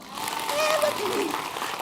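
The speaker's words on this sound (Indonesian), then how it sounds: "Wah, tepuk tangan dulu." A brief burst of audience applause at an Islamic religious lecture, thick and continuous for a couple of seconds, with some voices audible underneath.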